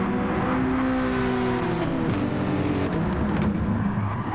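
A Porsche GT race car engine from a racing video game, a steady loud engine drone whose pitch shifts as the car passes, continuous and close throughout.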